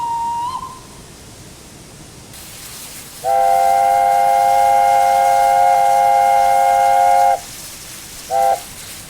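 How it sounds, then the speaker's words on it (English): An LNER A1/1 steam locomotive's teapot whistle sounds in Train Simulator as one long, loud, steady multi-tone blast lasting about four seconds, followed by a short second toot over quiet rumbling. "the A1/1 uses the same LNER teapot whistle as the P1 and A3"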